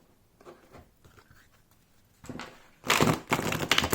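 Artisan Tarot cards for the Jacob Jerger deck being shuffled close up, opening with faint riffling and sliding, then louder dense bursts of card flutter and slaps over the final second and a half.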